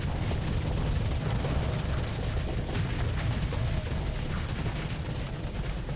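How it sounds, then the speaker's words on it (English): Dense, continuous roar of missile launches and explosions during a space battle in Starsector, a steady loud wash of booms and rumble with no gaps. "Throw missiles."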